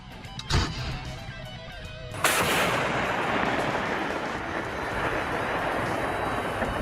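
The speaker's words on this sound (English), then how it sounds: "The Malka motorized artillery system is an upgrade of the 2S7 Pion self-propelled cannon developed in the 1980s" A 2S7M Malka 203mm self-propelled artillery gun fires one heavy booming shot with a sharp blast, after which a loud rumbling roar sustains and slowly fades; a smaller thump comes just before.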